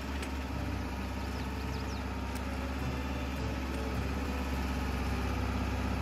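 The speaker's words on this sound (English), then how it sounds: "Tractor's got some volume to it. I like it." Tractor engine in the Farming Simulator 22 video game, a steady loud rumble running without a break from start to finish, with no talk over it.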